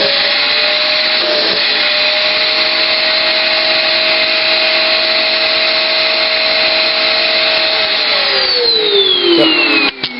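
A Shark vacuum cleaner runs steadily with strong suction, a loud constant whine and airflow roar that holds unchanged, then shifts pitch near the end as the airflow changes.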